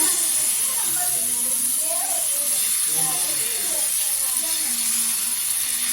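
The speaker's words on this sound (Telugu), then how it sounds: "ఇప్పుడైతే ఫస్ట్ దోశ అయితే వేస్తున్నాను నేను" Jowar (sorghum) dosa batter sizzles and hisses steadily on a hot griddle rubbed with onion, a constant close frying sound with a few faint clinks and scrapes.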